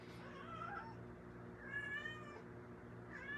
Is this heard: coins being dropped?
no